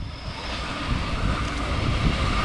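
Preserved diesel rail cars 621 and 721 roll past Albion Park-area station in New South Wales, a steady rumbling engine drone with rail noise building gradually, moderately distant.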